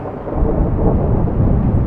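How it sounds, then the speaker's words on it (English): Deep, continuous rumbling of thunder rolls steadily, loud and low, with no voices over it, during a lightning storm on a golf course at Bandon Trails. "now you can really hear the thunder. It's coming"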